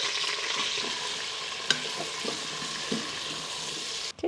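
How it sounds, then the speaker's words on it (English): Onions frying on saute mode in an Instant Pot, a loud continuous sizzle with a few stirring knocks, running alone until a brief clatter at the end. "I'm tossing the onions in first"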